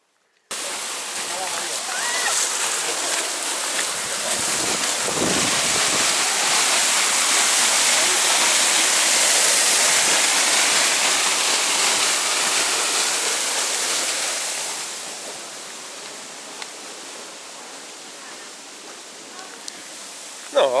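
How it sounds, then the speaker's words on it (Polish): A small waterfall on Madeira roars as a steady broadband rush of falling water, loud and close for most of the stretch before fading to a softer distant hiss near the end. "fajny, fajny kolejny wodospadzik"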